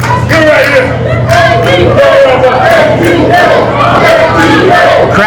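A wrestling crowd at a pro wrestling show chants and cheers loudly for ADK, a continuous rhythmic roar of many voices close and full throughout.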